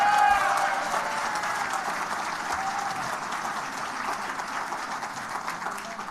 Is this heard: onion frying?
no